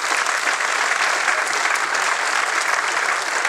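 A crowd claps for a brass band member, Benoît, the applause dense and even, filling the space steadily from start to finish.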